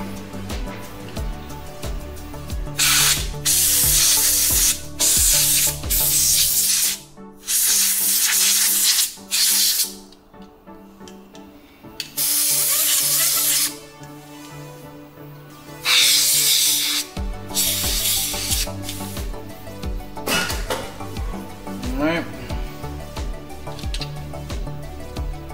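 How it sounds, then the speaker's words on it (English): A spray can of cleaner hisses in long bursts, several loud, close sprays separated by pauses and rattling handling noise, while a Prusa MK3S 3D printer's filament sensor area is cleaned. "I'm gonna get a handy dandy spray can"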